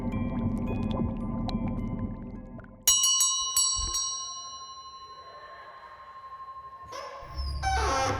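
A bell rings out in a sharp cluster of strikes whose bright metallic tones hang and slowly fade over a low murmur, then a second burst of ringing follows near the end.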